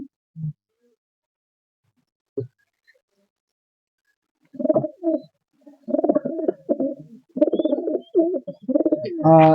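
Soft, low pigeon coos come in short repeated bursts, sparse at first then more frequent, close by in an otherwise quiet space.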